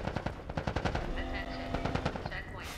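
Rapid machine gun fire crackles in bursts during a firefight in the video game The Last of Us, loud and close, with shouting voices underneath.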